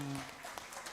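Audience applause fills a hall during a live singing audition for a dangdut singer in South Kalimantan, a brief, steady burst of dense clapping with no gaps.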